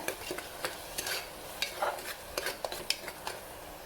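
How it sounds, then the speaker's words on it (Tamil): Curry leaves, coriander and chili being stirred in a pan, with a spoon scraping and clinking in quick irregular strokes over a faint background sizzle. "கருவேப்பிலை மல்லியில் மிளகாய் சேர்த்துக்கோங்க நல்லா கிண்டிட்டுக்கோங்க"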